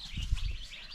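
Young Delaware broiler chicks raised as meat birds chirp in brief, high peeps over low rustling and bumps, close by.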